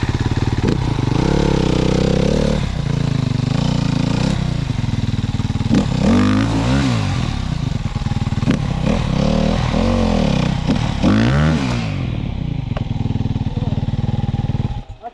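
A dirt bike engine revs hard and continuously on a slippery evening trail at Windrock, loud and close with clattering, rising and falling throttle bursts, then the engine drops off abruptly near the end.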